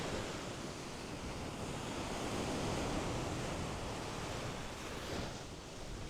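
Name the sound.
ocean waves breaking on a beach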